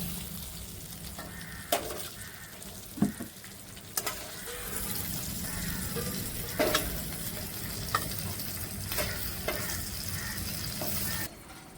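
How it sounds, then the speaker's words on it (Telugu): Cauliflower fries in oil in a pan for a curry, a continuous sizzle broken by repeated scraping stirs and utensil knocks, close and steady with no talk. "4-5 నిమిషాలు బాగా ఫ్రై చేసుకున్నా. కాలీఫ్లవర్ని పక్కకు తీసుకుంటున్నా."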